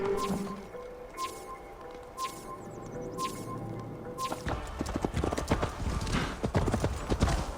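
Video game horse in Assassin's Creed Valhalla: steady clip-clop of hooves trotting close by, joined midway by heavier thuds, rustling and a brief whinny-like cry as the sound grows busier and louder.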